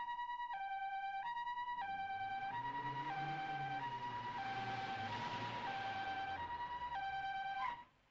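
An ambulance siren wails continuously in a repeating two-tone pattern, loud and close, cutting off abruptly at the end.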